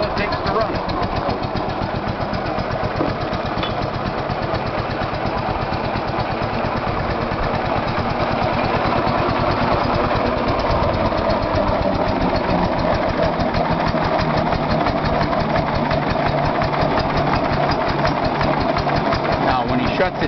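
A two-cylinder engine in a 1906 Wayne brass car runs with a loud, steady, rapid chugging beat close by for twenty seconds, with a voice speaking over it.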